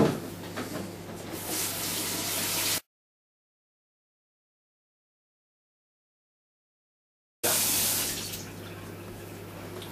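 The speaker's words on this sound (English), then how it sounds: "First of all, we're going to wash our hands." Tap water runs steadily as hands are washed under it before cooking in a kitchen, the flow cutting off abruptly into silence for several seconds before resuming.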